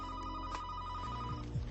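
A telephone rings with a bright repeated electronic trill over a low background hum, no one speaking during the ring.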